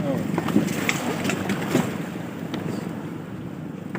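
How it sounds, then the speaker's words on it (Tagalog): Rough ocean water and strong waves slosh around a fishing boat, with gusty wind buffeting the microphone and people talking over it. "Malakas ng alon ah."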